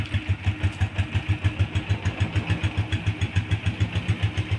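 A Honda TMX Alpha 125 motorcycle engine idling close up, with a steady, even chugging pulse throughout and no talk.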